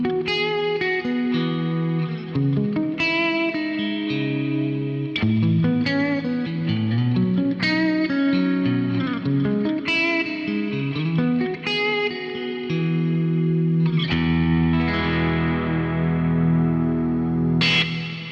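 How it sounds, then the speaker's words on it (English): An electric guitar sent through an external reverb pedal plays a melodic line of chords and notes drenched in lush reverb and effects, sustained and loud, with swelling washy tails. "I'm sending that guitar signal to the reverb pedal."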